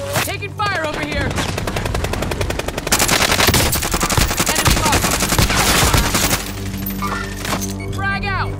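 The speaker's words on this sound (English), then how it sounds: "Taking fire over here." Video-game gunfire: loud, sustained automatic bursts fill most of the stretch, mixed with game music and effects, while voices talk over the shooting.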